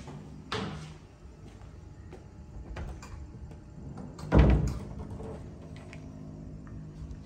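Hotel wardrobe doors in a Putrajaya Marriott deluxe room open with a soft thump near the start and a louder knock and rattle later, with quieter handling clicks between, close and fairly quiet.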